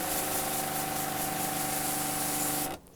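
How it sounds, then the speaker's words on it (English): A hose blasts a steady, loud hiss of spraying water at a ductless mini split outdoor unit, continuing for several seconds before cutting off abruptly. "we're just going to go ahead and shoot that off before we start spraying off our coil."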